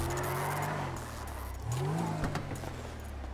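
A car engine in the video game GTA 5, with a caravan mod, revs and whirs, its pitch sweeping up and down in a couple of swells over a steady motor hum, no talking.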